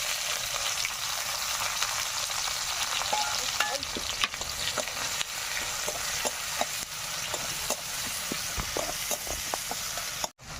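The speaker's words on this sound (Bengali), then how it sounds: "তো একই তেলে একটু তেল দিয়ে দেবো। কুচে রাখা পেঁয়াজ আর কাঁচা লঙ্কাটা দিয়ে দেবো।" Chopped onion and green chili fry in oil with a steady sizzle, punctuated by frequent scraping clicks of a spatula stirring the pan, close and continuous with no talking.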